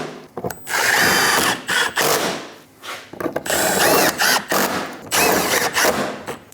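Bumper cover bolts on a Dodge Durango are driven in with a power tool, giving repeated loud, close whirring bursts with short pauses and ratcheting between bolts.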